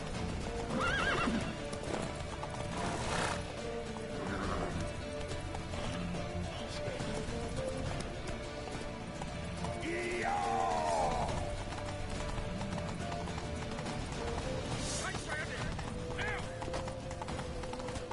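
Horses gallop with steady clip-clop hoofbeats and give several loud whinnies during a chase toward a temple in The Witcher 3 on PS5, with game music and sound effects continuing throughout.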